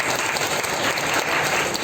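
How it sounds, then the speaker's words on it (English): A quiz-round audience at a Shakespeare birth anniversary event bursts into steady, dense applause, many hands clapping together loudly and evenly with no one speaking over it. "So Vishik and Moshada, a round of applause for them."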